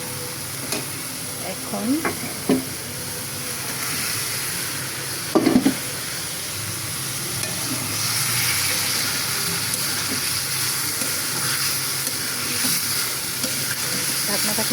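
Fried kakrol (spiny gourd) sizzles in a reducing gravy in a home kitchen, with a constant hiss and a few spatula stirs and scrapes. A single brief spoken word is heard early on.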